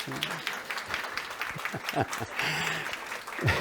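Audience applause during a pediatrics talk, moderate and somewhat distant, with scattered claps and crowd murmur running throughout.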